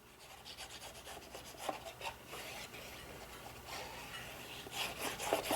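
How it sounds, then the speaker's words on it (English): A pet cat crunching and eating from its bowl nearby, giving a steady scratchy, rasping run of small chewing and bowl-rubbing noises with a few sharper clicks, heard alone without voices. "If you hear that noise, that's my cat coming to eat."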